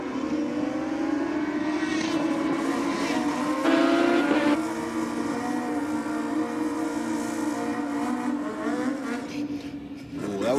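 Japanese motorcycle and a Harley-Davidson drag racing down the strip, a sustained loud roar of both engines at full throttle with rising pitch, close and continuous, a brief surge midway and a fresh rev near the end.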